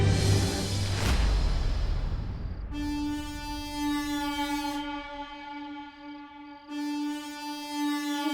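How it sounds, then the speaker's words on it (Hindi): A rushing, clattering rumble gives way to two long, loud blasts of a train horn, each sustained for a couple of seconds with a short break between. "ये तो सैंटा की हॉर्न पाइप की आवाज है।"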